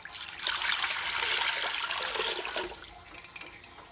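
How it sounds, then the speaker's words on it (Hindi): Water poured from a jug into a pressure cooker, a continuous splashing rush lasting a few seconds that fades into a thinner trickle near the end, close by. "ये मैंने जग भर लिया पानी का, ये मैं पूरा डाल दूँगी"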